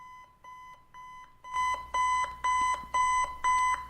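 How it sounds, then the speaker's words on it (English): An alarm clock beeps in a steady repeating pattern, first as quieter triple beeps, then switching to louder, longer, evenly spaced bursts that continue close and insistent, with no talking. "We're sleeping in, you guys. We're sleeping in. The alarm."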